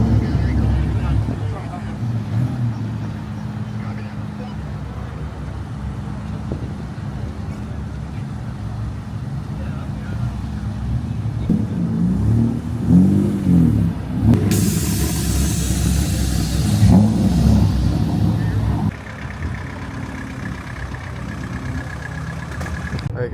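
A lowered Volkswagen GTI idles and then pulls away, its mid-pitched engine droning steadily at close range with a few rev swells and a brief higher-pitched burst partway through, all under an ongoing voice.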